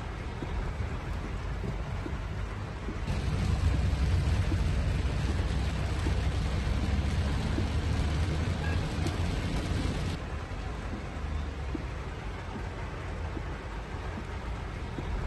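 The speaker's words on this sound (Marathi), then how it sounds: "थेट दृश्य मुंबईतल्या पावसाची" Heavy monsoon rain falls steadily across Mumbai's western suburbs, a dense, continuous wash of downpour that swells louder for several seconds in the middle before settling back, with no voices.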